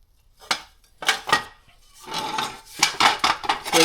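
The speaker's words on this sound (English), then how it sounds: "So you can see how that rattles." A removed 2018 Subaru STI up-pipe with a broken weld rattles when handled, giving several short bursts of close, bright metallic clattering and jangling separated by brief pauses, with a longer shaking run near the end.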